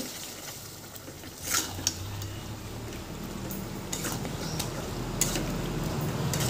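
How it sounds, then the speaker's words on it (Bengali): Marinated chicken pieces go into a hot pan of fried spices for a spicy lemon chicken, with a low steady sizzle under faint scraping and a couple of utensil clinks on the pan. "এবার এখানে ম্যারিনেট করা চিকেনটাকে দিয়ে দিচ্ছি। এবার ভালো করে এগুলোকে কষিয়ে নিতে হবে।"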